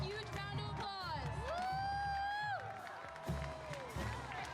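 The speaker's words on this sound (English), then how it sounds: "Let's give them a huge round of applause." At a high school football game, a crowd cheers and claps for volunteer car and truck drivers, with bright whoops and shouts rising over scattered applause before easing off.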